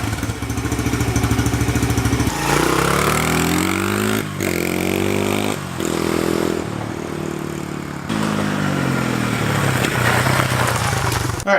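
A Honda CRF 100 dirt bike engine starts and runs in a garage, a loud, steady single-cylinder idle with a few revs rising and falling across the clip.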